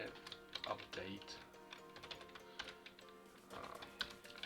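Computer keyboard typing in short bursts of key clicks, moderately close, while a voice talks over it during setup work in the Unreal Engine ALSV4 locomotion system.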